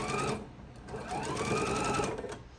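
Sewing machine stitching while chain piecing quilt block patches, a steady mechanical whir running almost continuously at close range with a brief slowdown near the start, no talking.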